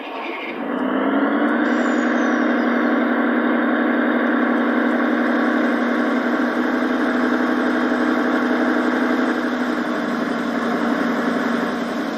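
The sound module of a Märklin 1:32 Gauge 1 model V 320 001 diesel locomotive plays through two speakers: a diesel engine starts up and settles into a steady, droning idle with a humming tone, close and continuous throughout.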